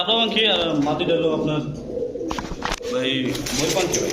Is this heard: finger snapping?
no